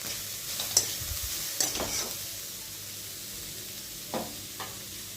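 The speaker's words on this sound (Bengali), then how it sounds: "নুনটা দিয়ে একটু নেড়ে পরে ঢাকা দিয়ে দিলাম।" Shredded cabbage sizzles softly as it is stir-fried with salt in a pan, with a few quiet scrapes and clinks of stirring over a low, steady hiss.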